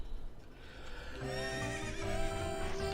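Epona the horse neighs in the Zelda Ocarina of Time video game, a loud, close, drawn-out whinny that rises and holds for a couple of seconds, heard alone without speech.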